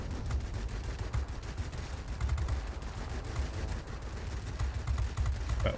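Aircraft guns rattle in the World of Warplanes combat game, bursts of rapid gunfire layered over a constant engine drone, dense and continuous with no talk.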